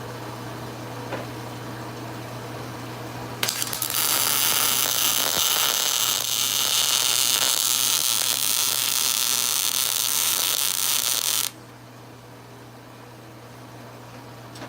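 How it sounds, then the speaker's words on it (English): Welding a bead on metal, a steady loud crackling hiss that starts abruptly, holds for about eight seconds, then cuts off, with a constant electrical hum running underneath throughout. "Now you can go through and weld it."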